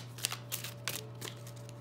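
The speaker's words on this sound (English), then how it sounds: "let's just have a general shuffle" Tarot cards are shuffled by hand for a reading, giving soft, papery riffling bursts in an uneven rhythm, quiet and close, with no talking.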